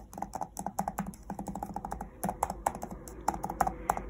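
Rapid, uneven clacking of Microsoft Surface Go tablet keyboard keys being typed on up close, a steady run of light taps with no voices.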